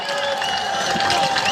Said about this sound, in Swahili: Mpigeni makofi jameni.